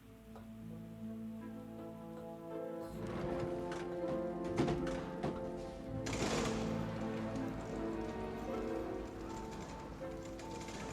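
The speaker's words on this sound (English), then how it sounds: "Rain. Always rain." Rain patters steadily in the steampunk video game Forgotton Anne, under sustained game music that starts softly and then swells fuller.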